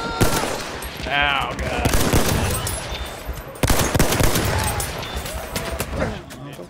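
Machine gun fire in the Battlefield 1 video game, Suez map, rattles in dense rapid bursts with scattered gunshots and explosions throughout, loud and close, while a player exclaims over it.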